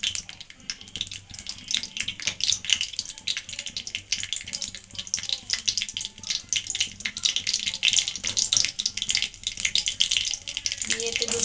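Cumin seeds tempering in hot oil for a Bengali mochar ghonto give a dense, crackling sizzle with busy spitting pops, close-up and continuous throughout.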